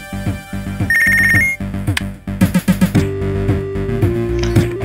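A phone rings in the video game Punch Club, a short electronic ringtone played over a plucky, rhythmic game soundtrack, loud and near.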